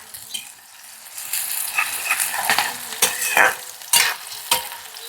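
Onion fries in hot oil with a crackling sizzle, joined by repeated scraping stirs and light utensil knocks against the pan, building from quiet to busy and close.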